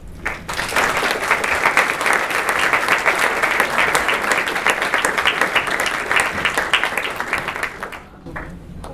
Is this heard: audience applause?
yes